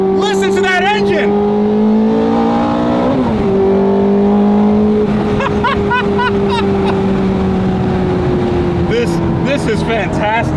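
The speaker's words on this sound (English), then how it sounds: "Listen to that engine!" A Ferrari 430 Scuderia engine revs hard while driving with the windows down, loud rising and falling tones as it shifts gears, with someone talking excitedly over it.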